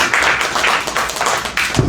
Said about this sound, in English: Thank you for clapping for Elisa